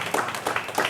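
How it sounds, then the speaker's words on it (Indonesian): A crowd claps for honorees at an anniversary event for Indonesia's national child protection commission. The applause is short, scattered and fairly close, with uneven bursts of hand claps. "kita berikan aplaus tepuk tangan untuk Ibu Reza Bernard dan Suryadi"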